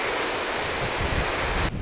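Ocean surf rushes against the rocky coast along the Kapalua Coastal Trail on Maui, Hawaii, a dense, continuous wash of foaming water with wind buffeting the microphone, loud and close.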